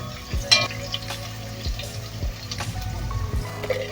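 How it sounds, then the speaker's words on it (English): Beef innards sautéing in a pan for a Manipur-style curry, soft crackling sizzle and scattered stirring clatter close by, low background hum throughout. "You saute this until it is brown color."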